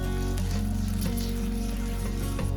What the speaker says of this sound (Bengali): দেওয়ার পরে হালকা আঁচে আমরা 1 মিনিট ধরে মশলাটাকে কষিয়ে নেব।